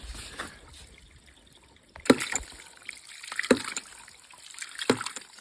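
Water trickling steadily through the pipe of a siphon and ram pump feeding a gravity-fed garden drip irrigation line, with sharp knocks recurring about every second and a half over the flow.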